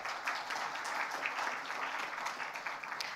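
A crowd at a Nepal teen hero award gala applauds to welcome an arriving dignitary, with continuous moderately loud clapping throughout and no one speaking.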